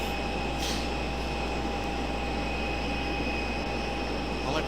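A plane arrives at Raleigh Durham International at night, its engines a steady, continuous roar with a faint whine, heard from a distance with no voices.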